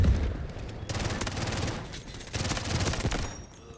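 Glock pistol fire in the shooter Delta Force, rapid shots mixed into a dense, noisy battle din that swells in two waves over steady background combat.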